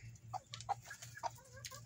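Backyard chickens clucking and squabbling outdoors on a hot day, several short, sharp clucks at uneven intervals over a low steady hum, faint and close.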